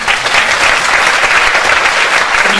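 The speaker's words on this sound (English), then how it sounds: "Round of applause for" Loud, dense audience applause fills a hall at a Scottish independence debate, steady clapping from a large crowd throughout.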